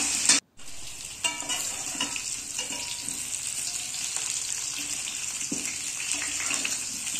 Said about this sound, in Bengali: এবার আমি তেলটা গরম করে এবার আলুগুলো ভেজে নেব।